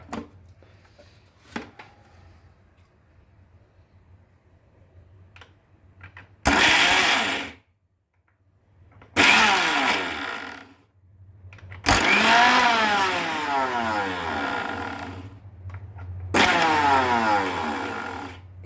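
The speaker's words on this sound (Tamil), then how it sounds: "நம்ம மறுபடியும் இதை கொஞ்சம் விட்டு அரைச்சின்னு வந்துடலாம்" A mixie (mixer grinder) grinding dynamite chutney, running in four loud whirring bursts separated by pauses, the motor pitch sweeping as the blades spin up and down.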